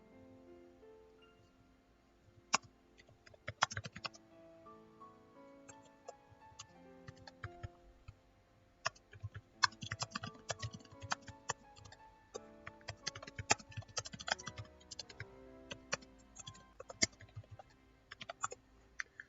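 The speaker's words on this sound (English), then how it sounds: "I know I'm like typing to you now" Rapid clicking keystrokes on a computer keyboard, irregular bursts that grow busier toward the end, fairly close over a steady soft background of game music.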